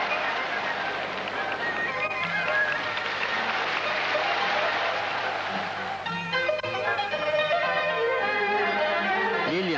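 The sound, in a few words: thunderous applause after a martial arts performance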